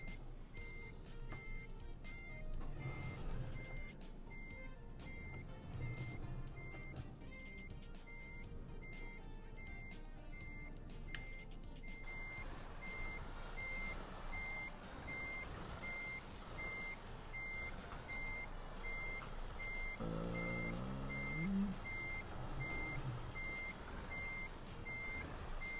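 Truck in Euro Truck Simulator 2 backing up with a trailer, its reversing alarm beeping in a steady regular rhythm over a low engine hum, with a brief air-brake hiss and engine change partway through.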